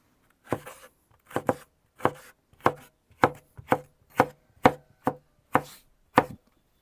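A knife chops bell pepper on a board in about ten steady, evenly spaced strokes, crisp and close, with no talking.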